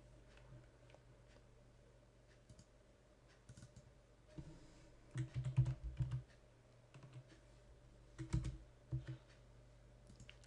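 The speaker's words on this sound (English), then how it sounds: "Double click on them and just type in the" Typing on a computer keyboard, scattered key taps in short bursts, with two denser flurries of clicks against a quiet room hum.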